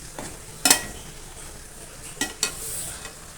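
Cooked dal being stirred into white ponnanganni spinach kootu in a pan, with a few sharp spoon scrapes and clinks over a faint, steady background hiss, no voices.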